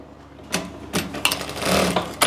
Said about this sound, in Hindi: इसके ऊपर अब हम गले को रखेंगे और सिलाई लगा लेंगे